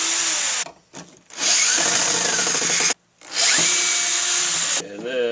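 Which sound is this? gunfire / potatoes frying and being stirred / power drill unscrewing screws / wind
power drill unscrewing screws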